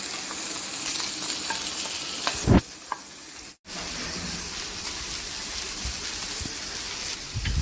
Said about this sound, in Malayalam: ചെറിയ തീയിൽ കുറച്ച് നേരം ഒന്ന് ഫ്രൈ ചെയ്തെടുക്കാം